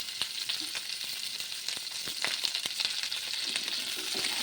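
Chopped onions frying in a pan, a steady close sizzle with crackles and occasional sharp pops throughout.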